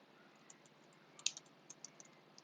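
An announcement is typed on a computer keyboard, with light, close keystroke clicks in an irregular run that grows busier midway.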